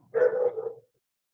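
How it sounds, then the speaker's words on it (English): A dog barks from outside in the cold, asking to be let in: one sustained, muffled bark-whine lasting under a second, moderately loud and heard alone. "She's barking to come in because it's cold outside."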